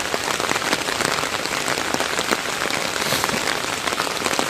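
Steady, dense rain patters loudly on surfaces throughout, an even close hiss of drops with no voices.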